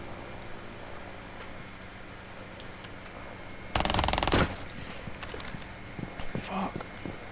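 A short, loud burst of rapid automatic gunfire in Rainbow Six Siege stands out against quiet game ambience, followed by a few faint scattered clicks and thuds, with talk around it.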